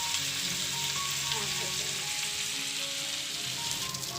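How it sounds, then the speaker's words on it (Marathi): Pieces of mushi, a small shark, sizzle steadily in hot oil for biryani, a dense continuous frying hiss with no voices over it. "तर आपण ह्या मुश्या आपण फ्राय करून घेणार आहोत"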